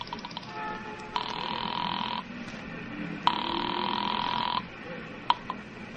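A telephone ringing on the line after a number is dialed on a pay phone, two long buzzing rings with a pause between, heard through the receiver against a quiet background.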